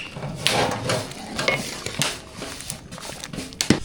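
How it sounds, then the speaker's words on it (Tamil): A spoon stirs masala into sambar in a cooking pot, making close, irregular scrapes and metallic clinks against the pot, with a soft bubbling sizzle underneath. "மசாலாலாம் சேர்த்தாச்சு நல்லா கலந்து விட்டுக்கலாம்"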